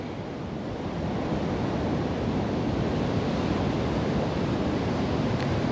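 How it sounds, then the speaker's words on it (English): Ocean surf rolls and crashes onto the shore in a continuous, enveloping roar of broadband water noise with some wind, steady and fairly loud throughout, with no voices. "Can you hear the waves in the background? Can you hear the water crashing in?"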